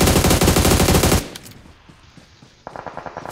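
Rapid automatic gunfire in the mobile battle royale game Battlegrounds Mobile India on the Sanhok map, a loud sustained burst for over a second, then scattered quieter shots and clicks before another volley of fast fire.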